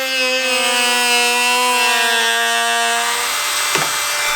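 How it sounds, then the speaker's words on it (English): A Dremel rotary tool trims a truck fender for clearance, giving a loud, steady high-pitched whine heard close up. The pitch sags slightly as it bites, and there is a brief scrape near the end. "We're just gonna go ahead and do a small little stencil with our Dremel tool here to make sure that there's enough clearance"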